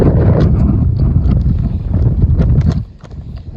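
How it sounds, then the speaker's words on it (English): Strong, steady wind buffets the microphone on a beach among sand dunes by the sea, with a loud low rumble, gusting continuously and easing briefly near the end. "Really windy today. It's a lot windier than they said it was going to be."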